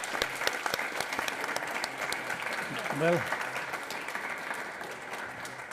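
Sustained audience applause closing the European Forum in Vienna, with steady crowd clapping throughout and someone briefly speaking over it near the middle.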